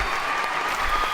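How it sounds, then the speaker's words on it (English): Canned applause sound effect played on a talk show, a steady dense wash of clapping filling the short moment at moderate loudness. "and a little applause"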